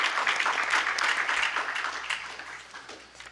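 Attendees at a meeting clap after a motion carries, a burst of many hands applauding up close that gradually thins and fades out.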